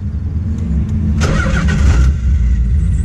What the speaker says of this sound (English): The car doesn't start.